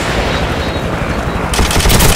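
M60 machine gun firing in Call of Duty 4, a loud, sustained burst of rapid automatic gunfire with no break, rising slightly in intensity toward the end.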